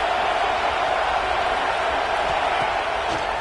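A broad, steady roar of stadium crowd noise fills a playoff football game, a dense, even wash of many distant voices holding constant without clear peaks.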